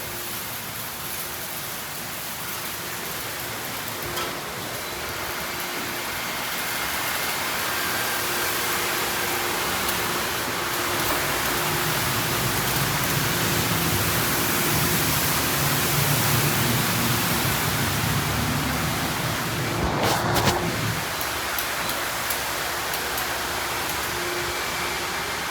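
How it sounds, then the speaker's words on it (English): High-pressure water sprays across a vehicle inside a poorly maintained Washworld Razor automatic car wash. A dense, continuous roar builds and keeps going, with brief louder bursts of spray and a faint mechanical hum underneath. "Free wastewater is now being applied to your vehicle."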